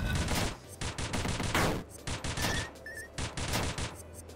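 Rapid bursts of video game gunfire from a gun in the 2D action game Dungreed, firing in quick clusters of shots with brief pauses between, loud and busy alongside other game effects.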